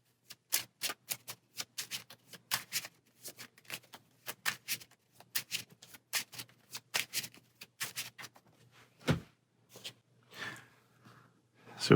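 Cards shuffled for a tabletop card game, a rapid run of crisp riffling clicks and flutters, close and fairly loud, with a couple of brief softer rustles near the end and no talk.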